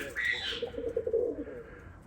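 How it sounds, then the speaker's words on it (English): Pigeons coo softly in a backyard loft, a low, rolling murmur of repeated coos over faint background noise, with a brief higher sound at the start. "My pigeons talking up here."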